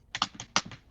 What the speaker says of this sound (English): Are you hitting your keyboard?